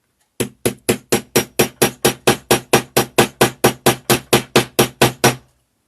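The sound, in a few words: hammering a snap setter on a mini wallet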